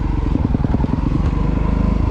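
A 2024 Honda CRF250RX motocross bike is ridden: a loud, close single-cylinder engine with a rapid throbbing beat, holding steady revs with some clatter.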